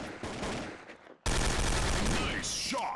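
An FN-FNC rifle opens fire in the game CSO2, a loud, sustained burst of rapid gunfire that starts abruptly after a brief lull in busier in-game noise and continues to the end.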